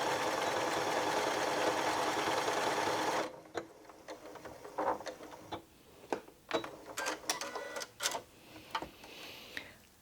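A Janome Memory Craft 6700P sewing machine runs a fast continuous stitch-out, then shifts to a sparser pattern of sharp mechanical clicks and ticks as it works, heard close and alone.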